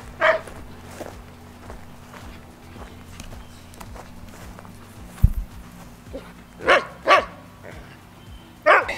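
A dog barks at approaching cows a few times, sharp and fairly close, with a pair of barks near the end, over a low background hum.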